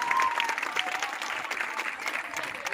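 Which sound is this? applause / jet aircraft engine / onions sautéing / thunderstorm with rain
applause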